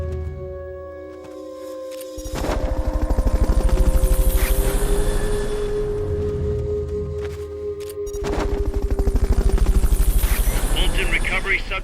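Fulton recovery helicopter in Metal Gear Solid: Peace Walker, a loud, steady rotor chop and engine drone that swells around two seconds in and again near eight seconds, with game sound effects layered over it.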